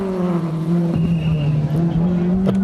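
A black Mark II historic rally car at a rally, its engine droning loud and steady with a strong low hum as it drives past, a brief sharp accent near the end.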